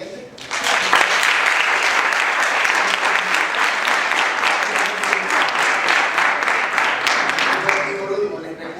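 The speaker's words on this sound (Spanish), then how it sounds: "les pido un fuerte aplauso para los debatientes" Sustained applause from a room of spectators after a euthanasia debate, loud and dense, rising quickly and holding steady for several seconds before easing off slightly at the end.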